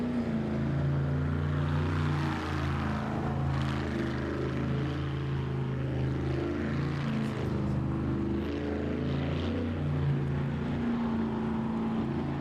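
A jet sprint boat with an HRE engine hums at a steady, fairly distant drone, its tonal engine note wavering slightly in pitch throughout with no pauses.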